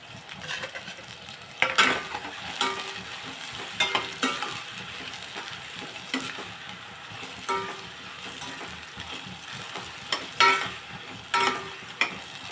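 Onions and green chillies fry in hot oil for a prawn, brinjal and egg curry, giving a steady close sizzle broken by scraping stir strokes and occasional metallic clinks of a spoon against the pan.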